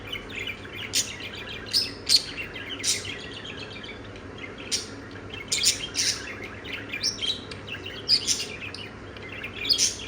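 A budgerigar chirps and warbles in short, bright bursts that repeat irregularly throughout, close and clear over a low, steady room hum, with no talking.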